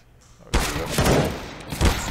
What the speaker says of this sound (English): there's Grad opening up with the Deagle